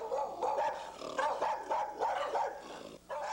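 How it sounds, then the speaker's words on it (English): A dog barks repeatedly in quick bursts close by, loud and rough-edged with a growling quality, several barks over a few seconds with no talking. "a barking dog would be a good thing, protecting the house"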